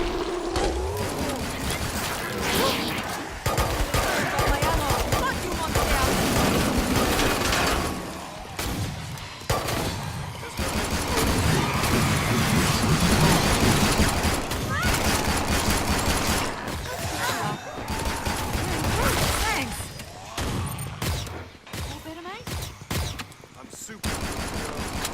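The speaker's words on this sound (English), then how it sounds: "As you can see, I'm firing my weapons in a burst style." Weapons fire in bursts in the video game Killing Floor 2, a loud, nearly continuous barrage of rapid gunshots with brief dips between volleys and clattering mechanical sounds mixed in.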